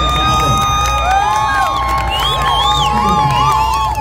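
A large crowd at an armed forces display cheers a cavalry regiment with whistles and whoops rising over a steady roar, loud and lively throughout.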